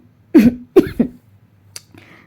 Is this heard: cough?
yes